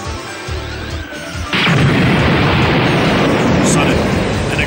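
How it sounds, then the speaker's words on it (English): A deep, booming explosion from a Dragonball Z: Budokai Tenkaichi 2 cutscene, set in the heart of a city under android attack, erupts after a quieter opening and rolls on as a loud, sustained rumble for several seconds. "Suddenly, an explosion rang out from the heart of the city."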